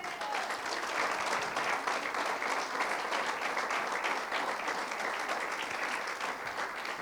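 Church congregation applauding at a sermon, a dense, steady wash of many hands clapping for several seconds, fairly distant and even in level.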